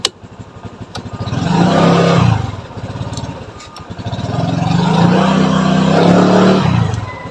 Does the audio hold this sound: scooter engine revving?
yes